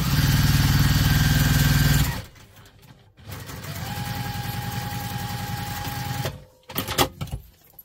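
Sewing machine stitching a seam on a crossbody bag: a loud steady run for about two seconds, a pause, then a longer, lighter run and a few brief knocks at the end.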